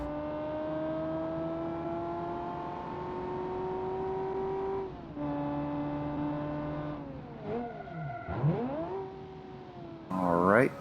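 Kiev Motors 08 car in the BeamNG driving game, its engine droning steadily and then revving hard through several sharp rises and dips as the driver works the throttle, loud and close with no talk.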